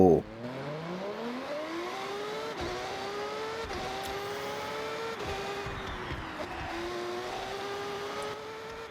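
A Mazda Furai race car engine in the Forza Horizon 6 video game revs up after a sharp start. The engine note climbs steadily through several loud, whining gear pulls, with brief dips between shifts.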